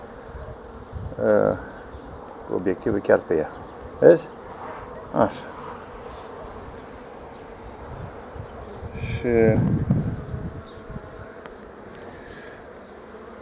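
Honeybees buzz on a hive frame where young bees are emerging, a steady close hum with louder swells, while a person talks over it at intervals.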